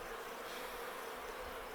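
Honeybees drone in an open beehive during an apiary inspection, a steady, close, dense buzzing hum that holds evenly throughout with no speech.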